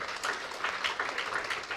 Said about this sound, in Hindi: सभी लोग तालियां बजाएंगे